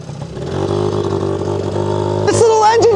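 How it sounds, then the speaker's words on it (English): A 1980s Honda Motocompo folding motorcycle's 49cc one-cylinder two-stroke engine buzzes steadily up close, then revs higher toward the end, with a rising, raspy note. "This little engine you hear is a 49cc one-cylinder two-stroke"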